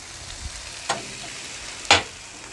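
Bacon on a Blackstone griddle gives a low, steady sizzle, marked by two sharp scraping bursts of a spatula near the start and end, close and with no voices.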